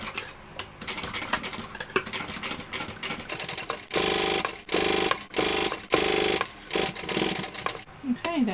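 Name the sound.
sewing machine top stitching a tote bag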